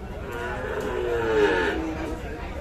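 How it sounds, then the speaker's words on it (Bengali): An eight-month-old Sahiwal bull calf at the Kaharol cattle market gives a sustained, close, fairly loud moo against a steady murmur of market noise. "শাহিওয়াল ষাঁড় বাছুর"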